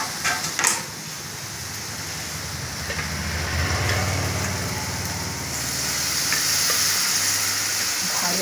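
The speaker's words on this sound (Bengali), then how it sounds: "ভাজা আলু," Potatoes frying in spiced oil in a pan after fish, giving a loud, continuous close sizzle with a few stirring clatters early on, and no voices.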